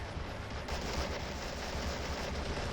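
Machine gun fire in the war game Men of War: Assault Squad 2, a loud, dense, continuous rattle of bursts mixed with booming battle noise.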